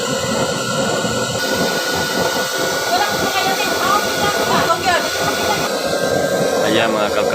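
A heavy-duty used-oil burner stove with an 18-inch frame and 8-inch chamber roars with a steady, loud, dense hiss and rumble of flame throughout, with faint sounds in the background.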